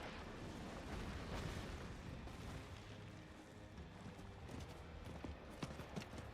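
A mounted horse in the Diablo 4 video game trots with rhythmic clip-clopping hooves over a dense, rumbling backdrop of game sound effects, steady and moderately loud throughout.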